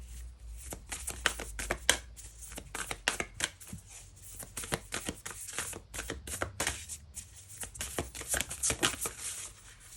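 Oracle cards being shuffled by hand, rapid crisp riffling and slapping in uneven bursts, close and fairly quiet, with no talking.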